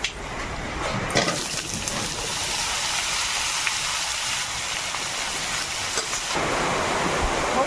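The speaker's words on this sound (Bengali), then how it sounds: "এই যা বৃষ্টি হচ্ছে" Steady rain falls throughout, a dense broadband hiss with a brief louder swell near the start and slight shifts in intensity toward the end.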